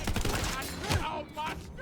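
Gunfire in the video game Tiny Tina's Wonderlands: a dense, continuous burst of rapid shots with thuds and a heavier impact near the middle, loud and close, layered with busy game sound effects.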